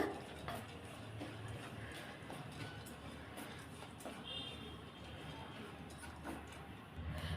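Soft, irregular scraping and light ticks as a spatula stirs dry moong dal lentils roasting in a pan, quiet and close.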